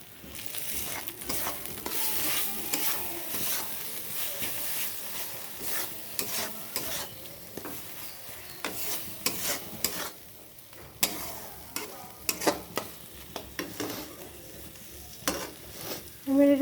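Small fish frying in a pan with salt and turmeric, a steady soft sizzle under repeated stirring scrapes and clinks, fairly quiet and close, ending with a louder knock.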